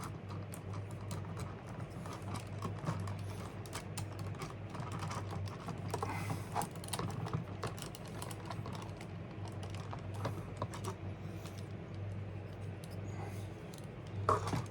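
A 1999 Japanese-exclusive Neo Beast Wars Magmatron Transformers toy is folded and transformed by hand, giving faint, close, irregular plastic clicks and snaps with small handling rustles.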